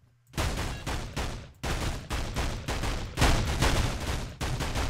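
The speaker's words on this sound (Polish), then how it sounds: "Oczywiście strzelam na pałę w te krzaki." Gunfire in the video game Of Guards and Thieves, shots sprayed blindly into bushes: dense, loud bursts of rapid shots in several sustained volleys separated by brief pauses, with no talking.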